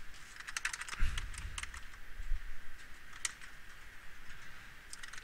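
Fingers type code on a computer keyboard, a quiet, irregular patter of light key clicks with brief bursts and pauses, close and alone.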